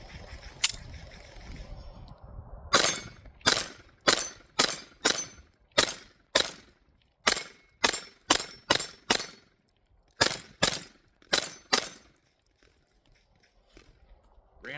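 Taurus TX22 pistol firing CCI standard .22 ammunition: nearly twenty sharp, loud reports at close range, a couple of isolated shots and then a quick steady string with short pauses.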